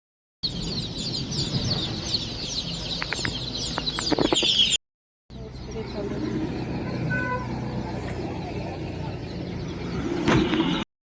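Newly bought chicken chicks keep up a dense, high-pitched peeping chorus close by. The sound breaks off briefly once, and a few knocks and clunks come through.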